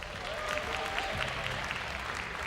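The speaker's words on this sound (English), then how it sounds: "please give them a warm round of applause" An audience at a live M5 World Championship esports event claps in steady, dense applause, a continuous crowd clatter filling the short stretch at moderate distance.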